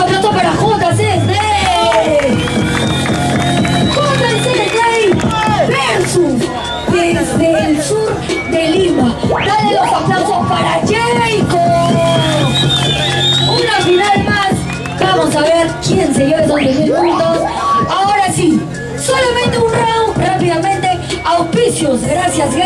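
Crowd at a Lima freestyle rap battle final cheers, whoops and shouts for a rapper, a dense roaring mass of voices with loud yells rising throughout, with no clear applause distinguishable.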